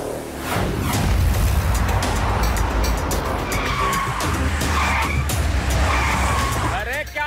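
A car's engine roars continuously with a loud tire screech rising near the end, over busy traffic noise; a voice speaks briefly at the close.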